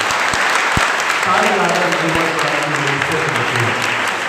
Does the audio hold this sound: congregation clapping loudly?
yes